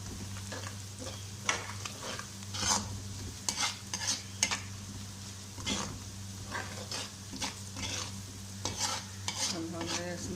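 Spices for karahi gosht frying and being stirred, a steady sizzle under repeated sharp spatula scrapes and knocks against the pan at an uneven rhythm, with a low steady hum behind.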